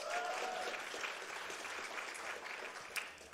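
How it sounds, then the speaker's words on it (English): Audience applause during a community event as each name is announced, a steady wash of clapping that fills the short stretch without a break, loud and close. "we pause for applause after every name"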